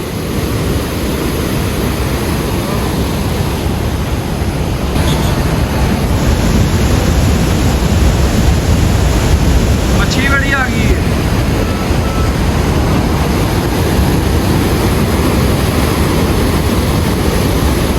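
Water rushing through the opened gates of the dam at Talwara on the Beas river, a constant loud roar that fills the whole stretch with wind buffeting the microphone.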